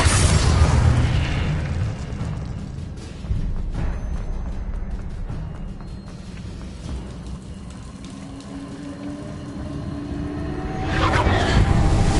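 Hogwarts Legacy video game combat with the Confringo fire spell: a dense, roaring rumble of explosive blasts and crackling debris, loud and continuous, swelling again near the end.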